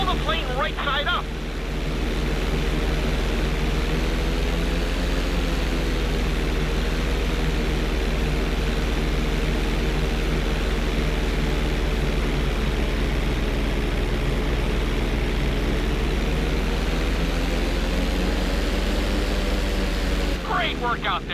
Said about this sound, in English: On my word, roll over the plane and hold it steady.